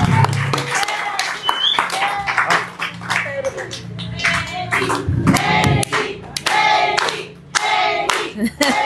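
Lively audience applause for a speaker at a talk on judicial reform and feminism, a loud irregular patter of many hands clapping continuously, with some voices mixed in.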